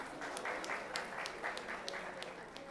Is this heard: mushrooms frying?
no